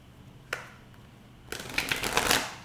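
Tarot cards are handled, with a single soft snap followed after a pause by a close, quick riffling shuffle of the deck that rises to a dense flurry of crisp card flicks.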